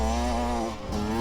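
A small engine buzzes like a pocket rocket mini motorcycle, a steady, close, high-pitched droning whine that holds throughout with a slight dip partway.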